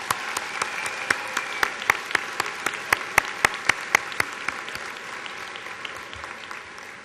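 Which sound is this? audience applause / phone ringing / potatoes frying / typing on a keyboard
audience applause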